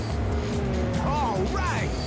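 A car drifts in the PSP racing game Ridge Racer 2, its engine droning loudly and continuously while a rising-and-falling tire squeal cuts in briefly near the end.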